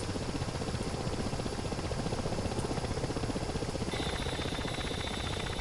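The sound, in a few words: Ka-50 Black Shark helicopter in DCS World video game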